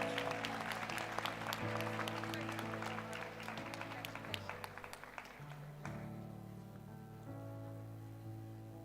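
A ceremony audience at a distinguished alumni awards event applauds steadily, a dense patter of clapping over a sustained low musical tone that shifts pitch a few times.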